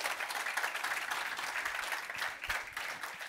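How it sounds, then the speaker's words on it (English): Audience applause at an international AI summit in 2023, a dense steady clapping from a large crowd that stays loud and even throughout without pause. "A round of applause."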